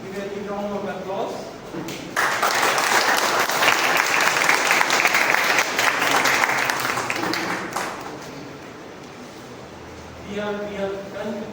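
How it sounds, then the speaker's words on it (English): Applause from the audience at a Toastmasters club meeting, a broad steady clatter of many hands that swells in, holds for about six seconds, then fades, with voices talking before and after it. "Please give a big round of applause."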